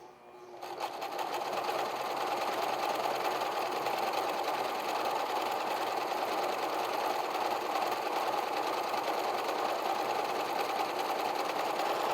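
A sewing machine runs continuously while stitching apron belts, a steady, dense mechanical whir that starts abruptly and holds at an even loudness for over ten seconds with no talk.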